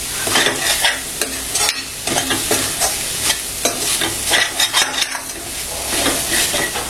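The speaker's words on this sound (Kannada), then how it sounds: "ಈಗ ಇದು ಸ್ವಲ್ಪ ಕೊಬ್ಬರಿ ಕೆಂಪು ಕಲರ್ ಬರೋವರೆಗೂ ಇದನ್ನ ಹುರ್ಕೋಬೇಕು." Grated coconut being dry-roasted and stirred in a pan until it turns red, for Mangalore chicken sukkha; a steady scraping and rustling of spatula against pan with faint sizzle, close and continuous, no voices.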